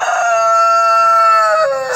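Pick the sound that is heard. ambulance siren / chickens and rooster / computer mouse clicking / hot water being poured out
chickens and rooster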